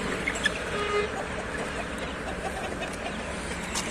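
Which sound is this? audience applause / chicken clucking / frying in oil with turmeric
chicken clucking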